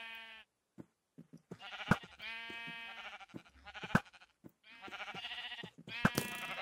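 Sheep in the Minecraft FTB video game bleat several times in short bursts, with a few sharp clicks between the calls and brief silent gaps.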